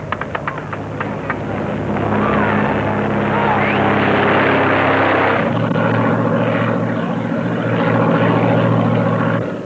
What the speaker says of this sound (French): Le moteur, parfait, tourne rond.